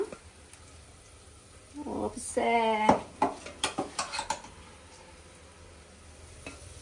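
Marinated chicken hits a hot pan with a sudden sizzle, followed by a few sharp clanks and scrapes of stirring, while voices talk quietly nearby.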